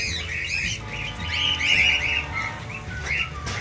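Finches eating rice chirp and squawk in a busy, overlapping chorus at close range, with sharp calls repeating throughout.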